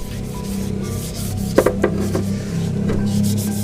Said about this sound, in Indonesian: Jadi kita amplas.